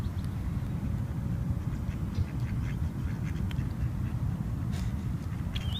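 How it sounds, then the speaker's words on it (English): Several ducks quack in quick, overlapping bursts over a low rumbling background, the calls scattered and moderately loud. "Quacking has to be one of my favorite noises, like that stampede of ducks."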